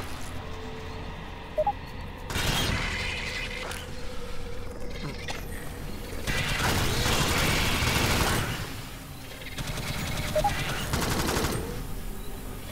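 Bursts of gunfire from the video game Alien Swarm erupt in several loud clusters over a low ambient hum, with sustained automatic fire swelling and fading across the stretch.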